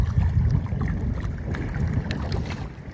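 Strong wind roars and buffets steadily across the clip on a lateen-sail boat, with rushing water and low rumbling movement, no voices.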